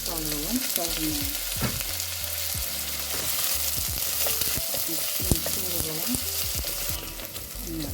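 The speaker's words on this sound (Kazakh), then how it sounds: "Пиязымызды кішкене қуырып алдық." Onion frying in hot oil in a cauldron, a steady close sizzle with occasional stirring scrapes running throughout, no voices over it.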